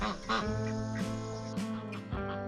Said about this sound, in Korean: 그런 꺼병이가 걱정스러운 캔디는 계속해서 애타게 부른다.